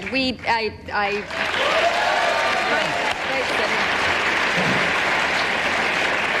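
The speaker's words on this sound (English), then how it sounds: "People applauding her from Century 21 or Beacons or both." Talk-show studio audience bursts into loud, sustained applause right after a short stretch of speech, the clapping filling the room evenly to the end.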